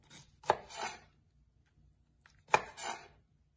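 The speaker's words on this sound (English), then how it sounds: "And just like slice it to thin slices as well." A knife cuts vegetables into thin slices on a board for Korean japchae. Two distinct, close slicing strokes are separated by a short quiet gap, with no talking.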